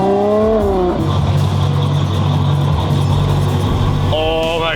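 A 1200-horsepower Toyota Supra engine revs up loudly, then settles into a deep, steady rumbling idle before climbing again near the end; close and dominant.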